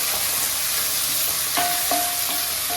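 Mint leaves sautéing in hot oil for foxtail millet kichadi, a dense continuous sizzle with a few spatula scrapes near the end, close and fairly loud, no talking.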